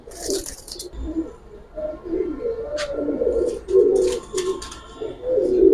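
Giribaz pigeons coo repeatedly up close in a throaty, rolling rhythm, with a few brief higher chirps and rustles mixed in and no talking.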